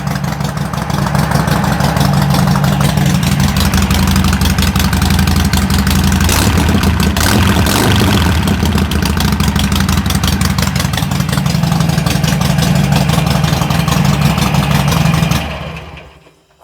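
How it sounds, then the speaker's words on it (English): A 2007 Harley-Davidson Sportster 883 motorcycle idles steadily and loudly up close with a smooth, even rumble, then the engine shuts off and the sound drops away at the end. "Pretty smooth running little bike."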